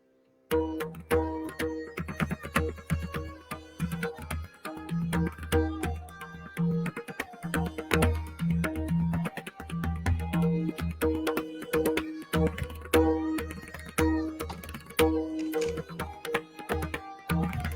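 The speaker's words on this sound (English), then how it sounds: "Let me also quickly play the third instrument, which is Pakhavaj." Deep resonant pakhavaj barrel drum strokes in a steady rhythmic pattern, booming low bass hits mixed with sharper slaps, played continuously and close.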